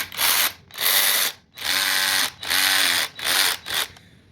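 A cheap 3/8-inch cordless 20V ratchet impact wrench on a Dewalt battery runs in reverse in five loud, close bursts of mechanical whirring and rattling, each about half a second long, separated by short pauses.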